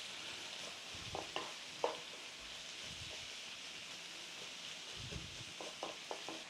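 Red onions cooking down in a pan, a soft continuous sizzle broken by irregular spoon scrapes and light clacks, quiet and close.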